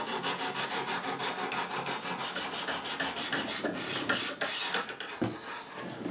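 A knife blade rasps back and forth across a Lansky deluxe sharpening system stone, a close, steady, rhythmic grinding of repeated strokes with no talking.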